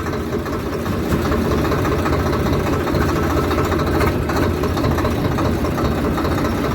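A tractor engine runs steadily nearby, a loud low diesel rumble with a knocking vibration that holds constant throughout, with no talk over it.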